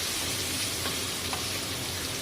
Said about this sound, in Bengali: হালকা একটু ভেজে ভেজে নিচ্ছি